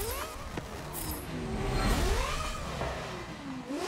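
A race car engine in a driving game revs up and down through rising and falling pitch sweeps, loud and continuous, with a steady droning rumble underneath.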